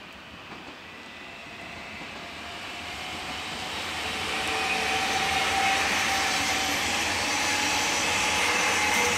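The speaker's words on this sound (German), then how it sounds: "Hier hätten wir also den Regionalexpress 54." A Regional-Express 54 train passing at Kahl am Main, a broad rushing rumble that swells over several seconds and holds loud and steady, with a faint tonal whine riding on top.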